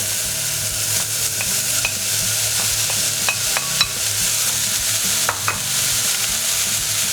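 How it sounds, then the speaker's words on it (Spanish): Spring onion and celery sizzle steadily in hot oil, with a continuous close frying hiss broken by occasional stirring scrapes and small pops. "En un poco de aceite caliente ponemos la cebolleta. Ponemos el apio."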